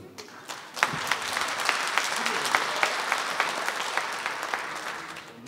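A stand-up comedy audience breaks into applause, a dense, sustained patter of many hands clapping with sharp individual claps, rising quickly and holding steady.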